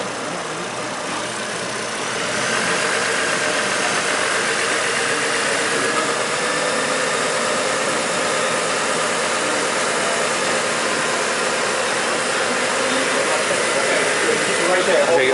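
A Chevy Trailblazer engine with a P060E fault, held at a steady 1,500 RPM, gives off a loud, even hum that swells after about two seconds and stays constant to the end.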